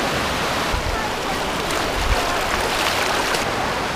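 The Citerep river flows near Babakan Madang, Bogor, as a steady, close, broadband rush of water with no pauses.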